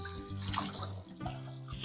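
Running water splashes and trickles steadily while homegrown collard greens are washed, with a faint tonal hum underneath.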